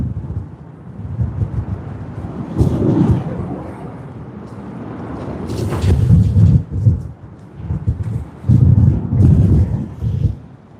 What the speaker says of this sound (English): It's getting much more wind.